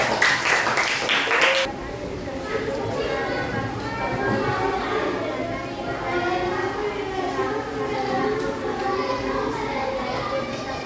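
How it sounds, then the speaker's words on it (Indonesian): A primary-school class claps hands together in a short, dense burst at the start, then the clapping gives way to steady voices of a teacher and children talking in the room. "tepuk tangan nomor 3"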